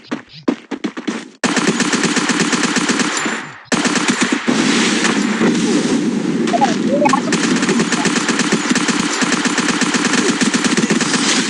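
Shooting video game gunfire: dense, continuous automatic bursts with brief gaps, loud and close, with a voice speaking faintly underneath.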